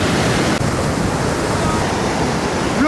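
River water flows steadily in the open air at a short-film shoot, a dense continuous broadband rush that fills the whole stretch and stays loud and even throughout.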